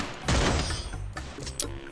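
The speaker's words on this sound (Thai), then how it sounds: "ปรับเสียงก่อนเสียงปืนนี่ก็ดังเลยเกิน" A burst of rapid video game gunfire erupts, followed by a few sharper shots and clatter, loud and close with a synthetic, game-like quality.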